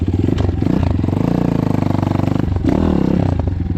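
A KAYA 512 motorcycle engine runs with a loud, deep, bassy exhaust, rumbling and revving close by in a steady throb.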